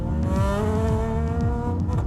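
A Lamborghini Miura mid-engine supercar engine sounds close and loud, with rising and falling revs and a repeated stepped rhythm of gear changes over a layered harmonic growl.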